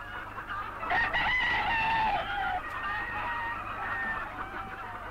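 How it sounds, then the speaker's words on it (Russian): Chickens cluck and a rooster crows on a large poultry farm, a dense, continuous flock chorus close by with a steady background hum. "Когда-то здесь было 17 тысяч кур, теперь 55 тысяч."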